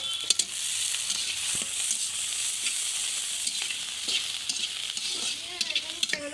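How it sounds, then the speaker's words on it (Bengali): Chopped garlic, onion and coriander leaves sizzle and fry together in a pan for a mashed vegetable dish, a steady close hiss with occasional stirring scrapes, no talking. "সব একসাথে ভেজে নেব"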